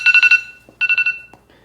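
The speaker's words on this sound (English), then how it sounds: "That's my timer." A timer alarm goes off in two loud, close bursts of four rapid electronic beeps each, with a short quiet gap between them.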